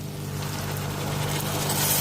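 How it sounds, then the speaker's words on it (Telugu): Water poured into a cooking pot of fried drumsticks and chili powder for an egg, drumstick and dried prawn curry: a steady broadband rushing that swells slightly toward the end, with no talk. "ఇప్పుడు వాటర్ వేసుకుందాము."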